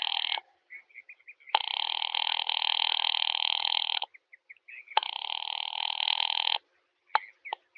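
A telephone bell rings in two long bursts separated by a pause, loud and close, with brief soft noises in between, in a radio drama.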